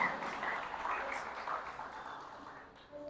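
A church congregation applauds together after being seated, a soft sustained patter of many hands at moderate distance that gradually thins and fades out.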